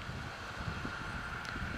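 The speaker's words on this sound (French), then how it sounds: "Le tracteur fauche." A tractor mows a hay field, producing a steady, moderately distant engine drone mixed with gusty wind noise throughout.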